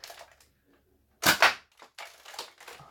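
A Nerf Raptor blaster with a long barrel fires a dart in one loud, sharp burst, followed by softer mechanical clatter and handling noises nearby.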